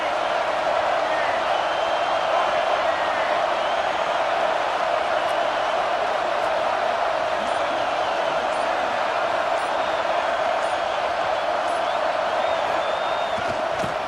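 A stadium crowd at an American football game roars in a constant dense wall of noise with scattered whoops, broadcast commentary running over the top the whole time.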